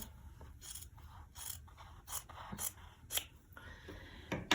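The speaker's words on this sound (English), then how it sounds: "I'm just using my scissors here real quick for this video" Scissors snip through fabric quilt squares along the diagonal, a close, quiet series of about eight crisp crunching cuts in an irregular rhythm, with no talking.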